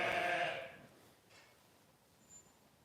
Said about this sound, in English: sheep are starting to get a bit worked up here